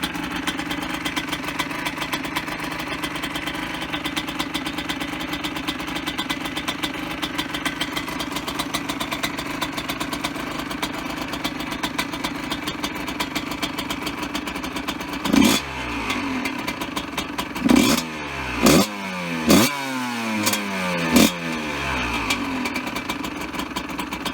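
A Husqvarna 125 SMS two-stroke motorcycle engine with its original exhaust idles with a buzzy, crackling putter, then revs sharply four times in quick bursts, loud and close.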